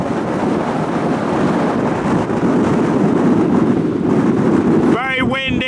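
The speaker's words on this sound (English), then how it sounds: "Very windy standing here" Strong wind buffets the microphone in a loud, continuous roar at a coastal viewpoint on Scotland's North Coast 500 looking toward the Isle of Skye; a voice starts speaking at the very end.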